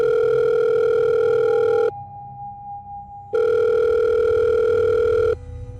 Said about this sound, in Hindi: तभी उसकी अम्मी का फोन आया